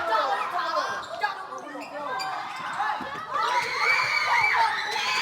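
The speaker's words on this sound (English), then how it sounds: "Lots of screaming going on, isn't it?" Children shout and scream in a busy, echoing school space while playing a game, with bouncing thuds and lively crowd noise throughout.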